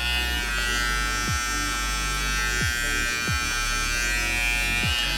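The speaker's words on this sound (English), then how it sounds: "Right now, clipper over comb." Steady close buzz of an electric hair clipper trimming hair in a taper cut, humming continuously with repeated brief dips in pitch as it passes through the hair.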